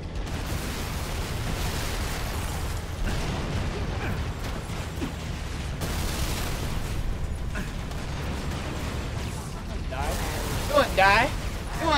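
Explosions and heavy weapon fire from a tank battle in the Halo: Reach video game rumble and burst repeatedly, with a continuous low thunder and sharper pops toward the end, under a voice talking over the action.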